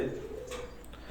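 Imported teddy pigeons coo softly and steadily against low background hum, a faint, close, murmuring call.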